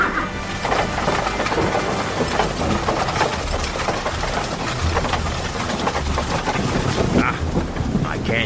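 Heavy rain pours continuously in a video game storm, with rumbling thunder and crackling bursts, a dense, loud storm wash without pause.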